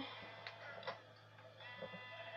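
Faint sheep bleats from a Minecraft game on Xbox 360 sound a few times against a steady background hum, quiet and somewhat distant, with no talking.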